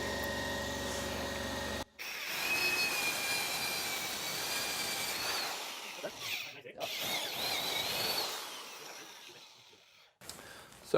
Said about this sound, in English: you can just use your corded drill just the same